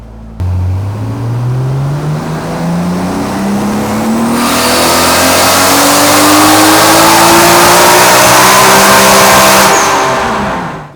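A 1990 Nissan R32 Skyline engine pulls hard through the rev range on a tuning run, its pitch rising steadily over several seconds before easing off, loud, close and continuous with no talking.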